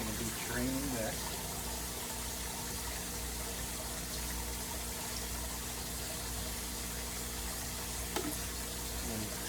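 Water draining from a DIY pond sump and bog filter with a K2 fluidized bed, a steady low gushing rush with a faint continuous hum, fairly quiet and unchanging throughout.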